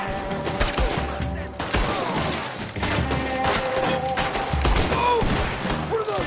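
Gunfire in Red Dead Redemption 2 during an epilogue shootout, with rapid overlapping shots and heavy thumps packed tightly together, loud and close throughout, with some game voices mixed underneath.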